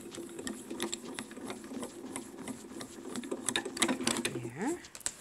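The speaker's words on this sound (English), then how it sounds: "Let's pop that in and emboss it as well." A hand-cranked card embossing machine feeding a folder through its rollers makes a steady mechanical whirring with clicks and a short rising squeak near the end, close by, under a woman's speech.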